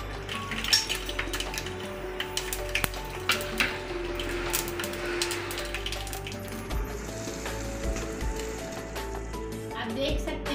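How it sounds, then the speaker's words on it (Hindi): Mustard and sesame seeds crackle and sizzle in hot oil with a steady hiss, small pops and utensil clinks scattered throughout, while a person talks over it. "अब हम इसमें राई और तिल ऐड कर देंगे"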